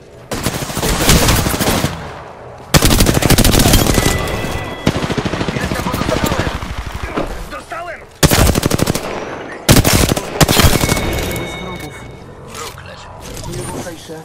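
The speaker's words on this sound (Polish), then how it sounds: "Ostrzał wroga, zaraz mnie podziurawią. Strzelam." Heavy automatic gunfire in an Apex Legends firefight, loud sustained bursts of rapid shots broken by short pauses, with game voice lines mixed in.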